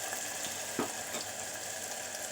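Onion pieces frying in a pan for a dondakaya masala curry, a soft continuous sizzle with a few light scrapes as they are stirred, moderately close and fairly quiet, with no talk.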